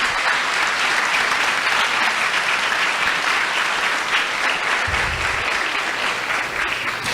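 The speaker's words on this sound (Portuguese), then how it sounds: "Você pode aplaudir o Senhor por isso?" A church congregation applauds together in a sustained, dense burst of clapping that holds steady throughout, filling the space without any voice on top.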